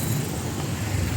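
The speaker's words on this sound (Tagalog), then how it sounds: "Maingay ang sasakyan." Traffic on a busy road in Vientiane, Laos, forms a steady, dense rumble of passing vehicles, close and continuous for a brief moment with no voices.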